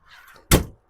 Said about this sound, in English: I'm going to get this door shut.